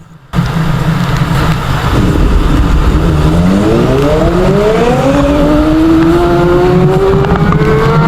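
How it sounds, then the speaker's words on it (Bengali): A motorbike accelerates hard along a good road toward about 70, its engine note climbing steadily in pitch as it speeds up, loud and close with continuous wind and road noise. "ভালো রাস্তায় আসার পর কত জোরে টানতেছে আমার ভাই বাইক প্রায় সত্তর উপর টান তুলছে"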